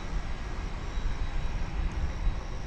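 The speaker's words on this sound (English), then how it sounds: "And here comes the big tri-jet" A big tri-jet airliner at DFW Airport gives a steady, broad roar with heavy low rumble, loud and unbroken, with no voices over it.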